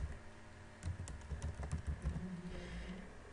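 Typing on a computer keyboard while working in an Excel spreadsheet, a quick run of close key clicks in an irregular rhythm with brief pauses, heard alone and fairly quiet.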